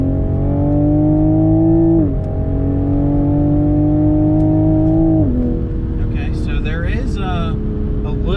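A 2021 Toyota GR Supra with a turbocharged engine accelerates hard, heard from inside the cabin. The loud engine tone climbs steadily, drops at two gear shifts, then climbs again, with a voice briefly speaking near the end.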